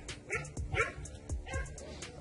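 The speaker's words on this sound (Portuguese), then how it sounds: "Os cachorros estão latindo" Several frightened dogs bark and yip in quick bursts during a storm, some whimpering between, fairly close and irregular.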